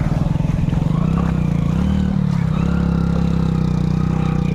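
A motorbike crossing a small water crossing on the trail to a hidden waterfall in Bargarh, Odisha, its engine running loud and steady close by throughout, with a faint clatter over the low, constant rumble.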